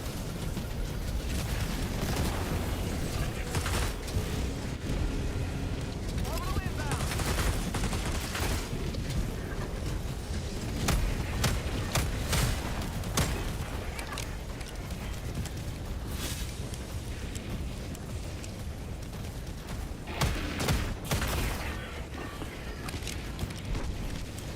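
Dynamite grenade explosions in the video game Darktide, heard as repeated booms and sharp cracks over steady rapid gunfire and chaotic combat noise, with a voice speaking now and then.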